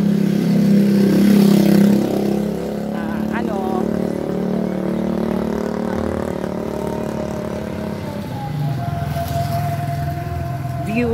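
Steady drone of a motorcycle engine heard from the pillion seat while riding, a constant mid-pitched hum with wind noise and occasional faint sounds underneath.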